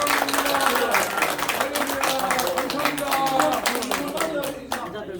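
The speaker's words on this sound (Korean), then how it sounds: "다시 한번 뜨겁게 박수" A congregation claps at a Korean thanksgiving worship service commemorating UN veterans, with quick rhythmic hand claps mixed with crowd noise and voices, fading slightly near the end.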